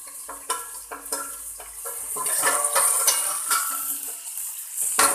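Fish frying in a pan gives a steady, bright sizzle and hiss throughout, with a few sharp clatters and spatters in the first seconds.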